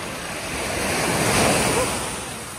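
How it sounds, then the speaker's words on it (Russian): Sea waves wash onto the shore at Ko Lan island, Thailand, a close, broad surf hiss that swells to a peak mid-way and eases off, mixed with some wind noise and no speech. "Очень спокойно и море само по себе."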